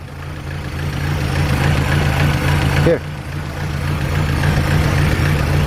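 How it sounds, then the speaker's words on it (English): A small engine, started after sitting unused for several years, idles steadily with a low, even rumble throughout, while a person says a word partway through. "Thing started up and idling after what, 5, 6, 7 years?"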